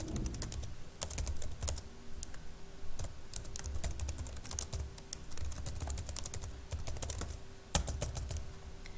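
Keys clatter on a computer keyboard as a comment is typed, a steady run of quick clicks with short pauses, close and moderately quiet, with no talking.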